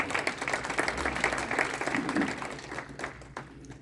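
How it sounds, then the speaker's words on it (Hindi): Audience applause at a book launch for Arshad Rashid's book, a dense, steady wash of many hands clapping together, sustained at a fairly even level for a few seconds before easing slightly at the end. "एक बार फिर तालियां।"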